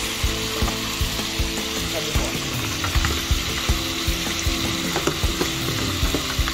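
Beef simmers in its own juices in a pot for riz gras, giving a steady close sizzle broken by frequent sharp clicks and scrapes of a stirring utensil against the pan.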